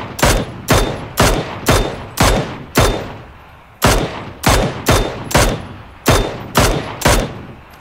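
A weapon in PUBG fires a loud, close series of single shots in quick, slightly uneven rhythm, about a dozen sharp cracks with a short pause midway, no voices heard.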